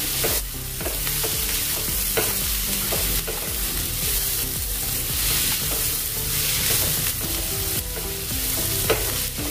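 Onions for a chana dal and onion curry fry loudly and continuously in a pan while a spoon stirs them, adding irregular clinks and scrapes over a dense, close sizzle.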